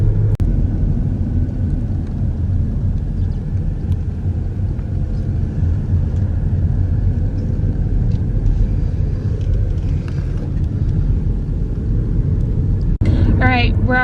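A car coasts downhill on the mountain road from the Haleakala summit in Hawaii, producing a loud, continuous low engine and road rumble heard from inside the cabin, with a brief clatter near the end.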